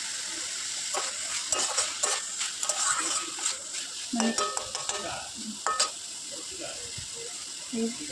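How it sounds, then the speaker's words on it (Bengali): Chicken mince and chopped green chillies for momo filling are stirred in a sizzling pan, with repeated close scraping strokes and clicky utensil knocks over a constant frying hiss. "তো কাঁচা লঙ্কাগুলো দিয়েও ফের আমি কিছুক্ষণ নাড়াচাড়া করতে থাকবো।"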